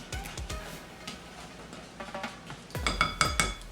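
A spoon stirs salt, baking powder and baking soda into flour in a bowl for oatmeal-raisin cookies, giving a run of light clinks and scrapes against the bowl that turns into a quicker, louder clatter near the end.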